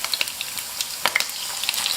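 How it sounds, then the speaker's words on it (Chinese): Pork ribs sizzle in a pan as they brown on both sides, a quiet, continuous crackle with scattered sharper pops. "煎至排骨两面都变色，然后给它少加一点酱油进去"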